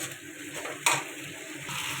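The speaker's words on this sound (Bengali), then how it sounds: "মশলাটা ভালো করে কষিয়ে নেওয়ার জন্য। কাঁচা গন্ধটা যাতে চলে যায় আদা।" Soft sizzling and stirring of a ginger spice paste sautéing in hot oil in a pan for a fish and potato curry, close and quiet with one brief louder scrape of a spoon.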